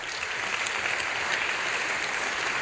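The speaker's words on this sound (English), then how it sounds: "can we just give him a round of applause for this plan?" An audience at a tech talk breaks into steady, sustained applause, dense clapping that fills the room evenly throughout with no voices heard over it.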